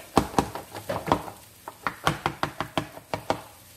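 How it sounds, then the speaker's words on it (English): Rapid rhythmic knife taps on a cutting board as a blade is rocked tip-down to mince garlic, a dozen or so crisp close knocks in quick succession. "makes pretty quick work of mincing a garlic"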